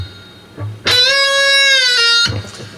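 Electric guitar phrase from a solo: a single loud, sustained note bent, held with slight vibrato, released and pulled off, ringing clearly and alone for about a second and a half.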